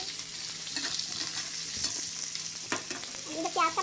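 Onions frying with bitter gourd and minced meat for keema karela, a steady close sizzle with intermittent scraping stirs of a utensil through the pan, no voices.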